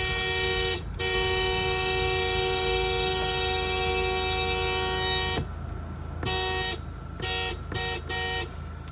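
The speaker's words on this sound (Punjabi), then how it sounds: "ਮਾਰ ਹਾਰਨ" A car horn blares in one long sustained toot, then gives several short honks in a choppy rhythm near the end, loud and close, with no talking.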